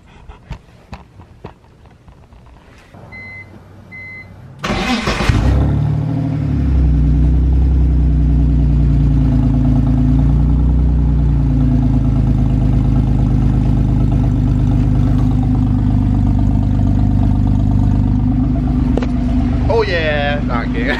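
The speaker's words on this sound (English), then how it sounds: "All ready to hear the meanest cold start in the world of a damn near straight piped car." A straight-piped BMW E46 cranks and roars to life on a cold start, then settles into a loud, rumbling, throaty idle that continues steadily, very close.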